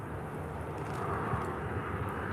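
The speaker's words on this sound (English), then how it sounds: "And Transavia landed." A Transavia airplane landing at Faro Airport gives a steady, distant jet roar that holds evenly throughout.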